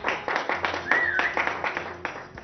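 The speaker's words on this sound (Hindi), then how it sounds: "जोरदार तालियां हो जाए बिट्टू और मुन्नी के लिए" Loud, distinct handclaps ring out for the performers Bittu and Munni on a Hindi television stage, several individual claps in an uneven rhythm with a brief tonal sound mixed in.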